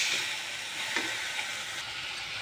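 Poi greens and potatoes frying in a pan, a continuous bright sizzle with faint stirring scrapes, steady and close for a couple of seconds with no voices.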